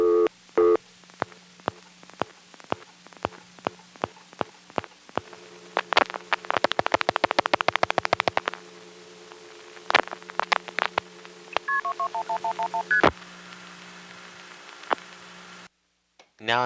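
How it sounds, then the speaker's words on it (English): Electromechanical clicking and relay chatter from an NX1 crossbar telephone exchange ticketing a dialed call in 1974: dense bursts of sharp ticks and clacks, with steady hum beneath and brief tones near the end. "notice the sound of the call being ticketed"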